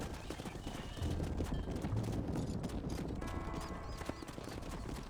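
Horse hooves clip-clop steadily in Red Dead Redemption, with whinnies and neighing over a dense ranch background of livestock and movement.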